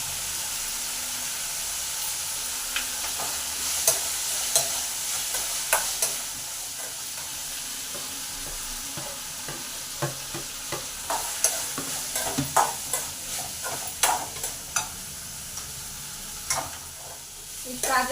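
Cinnamon and cloves fry and sizzle in a pan under steady stirring, giving a constant hiss broken by frequent scraping and clicking of the spoon, close up and fairly quiet.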